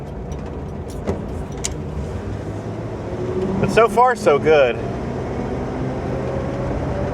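A 1958 Plymouth with no door panels drives along, its engine and road rumble filling the cabin with scattered rattles and clanks, while someone talks over the noise.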